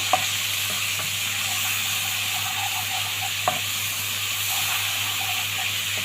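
Garlic, vinegar, black pepper and salt are stirred in a hot frying pan, giving a steady soft sizzle and hiss with faint scraping touches throughout.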